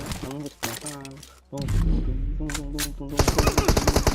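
Rapid bursts of automatic gunfire from the mobile battle-royale game PUBG Mobile, close and loud, with a fast rattling volley at the end, while players talk excitedly over the shooting.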